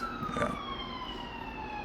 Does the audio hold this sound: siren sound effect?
yes